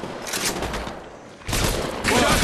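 Bursts of gunfire from an enemy squad in Apex Legends Mobile, two loud volleys split by a short lull, crackling and close.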